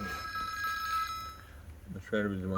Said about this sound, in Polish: Wyłącz ten telefon w cholerę